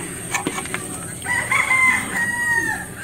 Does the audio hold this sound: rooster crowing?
yes